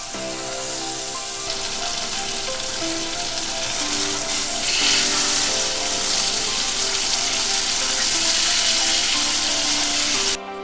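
Hilsa fish fry in hot oil with green chillies, a loud, continuous sizzle and crackle that swells slightly midway and runs steadily throughout, with no talking.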